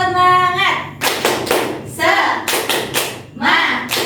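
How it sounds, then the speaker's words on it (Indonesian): Students in a classroom doing a rhythmic clap chant, bursts of quick hand claps alternating with chanted voices in a steady pattern, close and lively. "Kita tepuk semangat."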